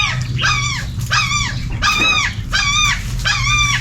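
A dog makes repeated high, whiny whimpers in a steady rhythm over a low rumbling growl, close and fairly loud.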